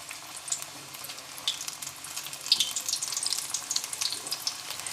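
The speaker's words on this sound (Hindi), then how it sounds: "घी गर्म हो चुका है। अब इसके अंदर मैं पकौड़े डालती हूँ।" Pakoras dropped into hot ghee crackle and sizzle steadily, a bright frying hiss with scattered pops and bubbling that grows busier toward the end; no talking.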